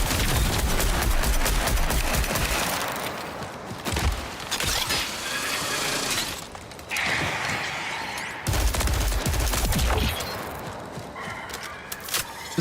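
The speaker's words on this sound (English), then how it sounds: "Where is he shooting me from?" Heavy, sustained gunfire in a video game as an enemy shoots at the player, dense rattling bursts broken by brief gaps and a few sharp impact cracks, loud and close throughout.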